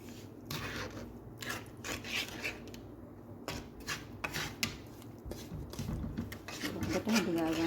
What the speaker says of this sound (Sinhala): සීනි ටික දිය වෙනකන් හැඳි ගන්න